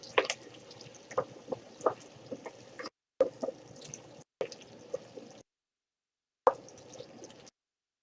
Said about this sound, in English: Let's stir this a little bit.